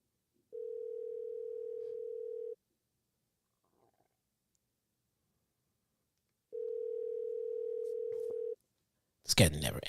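Steady electronic telephone ringback tone while calling someone, two long even beeps separated by a pause, clean and alone, followed by a brief noisy burst at the end.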